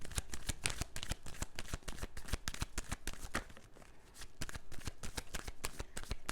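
Tarot and oracle cards are shuffled up close, giving a rapid, continuous run of crisp snapping riffles with a brief lull midway.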